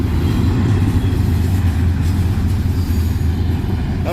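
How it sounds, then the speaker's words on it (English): A train rumbles past a rail crossing in Beaver County, Pennsylvania, a loud, steady roar of wheels on track filling the whole stretch with no let-up. "That was the whole train."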